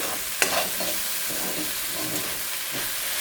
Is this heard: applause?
no